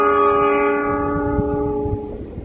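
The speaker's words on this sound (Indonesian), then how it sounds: "Kereta api Lodaya sedang menuruni bukit." Lodaya passenger train descending a hill near Lebak Jero and Leles, its horn sounding a long, loud sustained chord that fades over a couple of seconds above rumbling rail noise.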